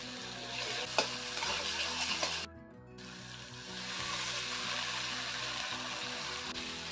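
Spices sautéing in a pan for an easy egg curry, a continuous soft sizzle with occasional light stirring taps and a brief lull partway through.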